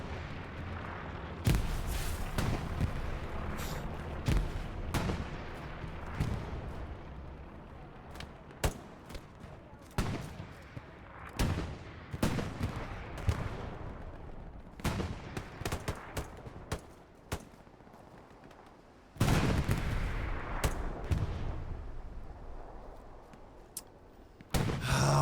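Grenade blasts and rifle fire in the World War II shooter Hell Let Loose during a competitive match, loud bursts and booming explosions repeating irregularly over a steady battlefield rumble.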